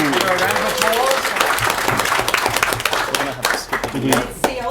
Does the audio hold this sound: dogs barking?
no